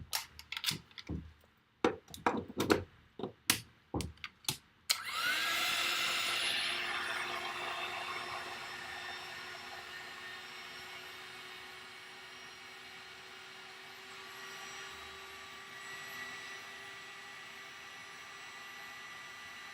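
During card making, a heat tool sets freshly applied ink on a stamped image. A few sharp clicks come first, then the tool whooshes on and runs steadily and loudly, with a constant whine to the end.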